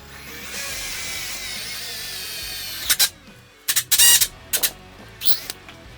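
A power drill bores holes through wooden cornhole board legs, whining steadily for a few seconds, then cutting out to sharp clatters and short bursts as the bit is pulled and handled.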